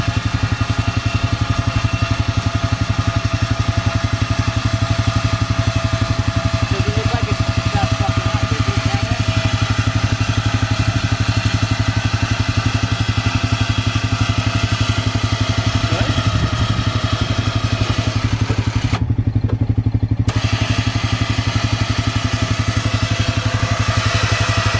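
An electric winch pulls a Honda Pioneer 500 quad out of a hole outdoors, a steady loud motor drone and hum running unbroken with faint clatter on top, and a voice briefly audible.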